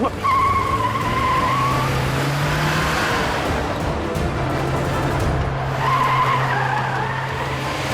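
A car skids with a loud, sustained tire squeal that rises and falls over about eight seconds, with engine noise underneath, in a Hindi drama scene.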